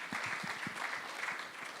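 Steady audience applause at an executive summit on Nigeria's tax reform, dense even clapping held at a moderate level throughout, with no talk over it.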